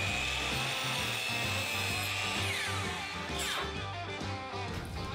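A power saw cutting cedar miters, its loud continuous whine with pitch shifts as the blade moves through the wood.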